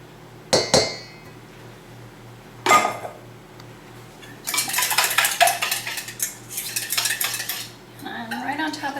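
Muffin batter mixed in a bowl with a utensil: a couple of sharp clinks against the bowl, then sustained scraping, stirring and clattering, close and fairly loud, with no talk.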